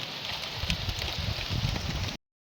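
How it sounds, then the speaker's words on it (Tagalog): Steady rain patters down on a beach, a dense hiss of drops hitting sand and surfaces at close range, running continuously before cutting off abruptly. "Ulan na gyud. Sanda na pag ulan."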